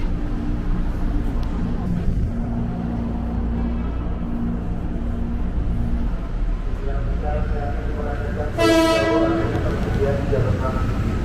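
A KRL commuter electric train rumbles loudly past close by at Bekasi station in a steady roar, and a horn sounds near the end.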